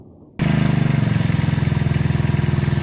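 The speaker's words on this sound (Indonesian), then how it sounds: "Untuk pengecekannya kita hidupkan motor dulu ya." A Honda CB motorcycle engine fires up abruptly after a moment of quiet, then settles into a loud, even idle with a rapid steady pulsing putter.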